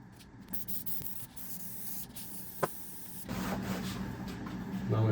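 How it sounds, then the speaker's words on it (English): An aerosol can sprays glue onto the flaps of a leather seat cover for a Triumph TR250 seat, a steady close hiss that grows louder and denser partway through, with a brief tap in the middle. "So this side of the flaps we need to spray."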